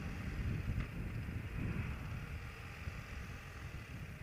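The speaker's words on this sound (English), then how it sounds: "You still got wind blasting over the outside." Steady low rumbling wind buffeting a microphone inside a Bell Bullitt motorcycle helmet while riding, broadband and constant, with engine and road noise blended in, no talking.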